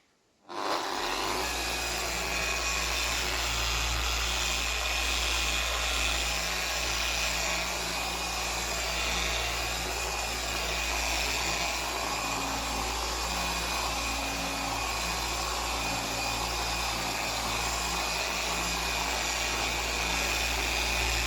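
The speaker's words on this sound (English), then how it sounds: "So now I need to buff up the rest of it." Electric buffing polisher working the painted front bumper of a Mazda MX5 NC, a steady loud whirring drone that starts abruptly and runs continuously alone without talk.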